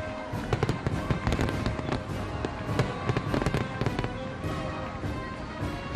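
Fireworks explode at a Fourth of July celebration in a dense, continuous barrage of loud crackling bursts and pops, with no voices.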